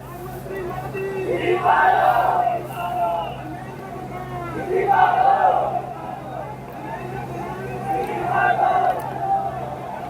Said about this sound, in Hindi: तो बेतहाशा भीड़ है, लोग हैं,